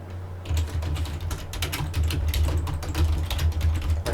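Rapid, steady clicking of keys on a computer keyboard, close and continuous, with a low hum underneath.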